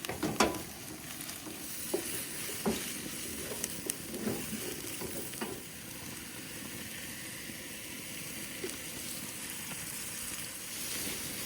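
Mushrooms in oil sizzle and fry steadily in a skillet for garlic butter mushroom and cauliflower, a continuous close crackle with a few louder stirring scrapes early on, no talking.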